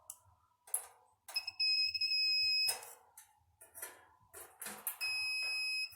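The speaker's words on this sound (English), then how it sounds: "each one of these should sound a beep whenever I touch it on both terminals" Several electronic multimeter continuity beeps, steady high tones held for a second or so, recurring amid clicks and tapping noises, with no talking, while testing a Samsung DV45H7000EW/A2 dryer heating element.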